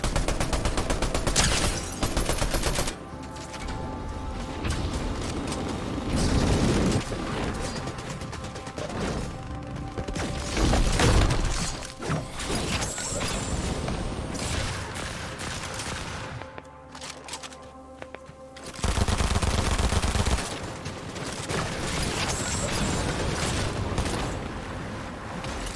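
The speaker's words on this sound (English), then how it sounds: "I hear that fucking shotgun, bro" Shotgun fire in a chaotic video game battle, with repeated loud booming blasts and dense crashing gunfire clustered in bursts over a constant clamor of combat.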